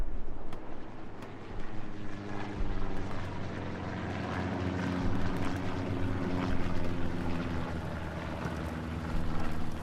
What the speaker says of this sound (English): Recon plane goes up in a nice diagonal form.